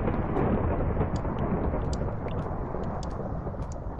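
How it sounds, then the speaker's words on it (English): Loud, continuous thunder rumble in a Minecraft-style video game, a broad roar filling the whole stretch with a few brief crackles on top, no talk. "that thunder's so loud"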